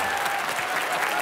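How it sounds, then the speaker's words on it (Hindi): Studio audience applause on a Hindi TV comedy show, a dense, continuous wash of clapping from a crowd, steady throughout with faint voices underneath. "इसके पैसे मिलते हैं, ठोको ताली।"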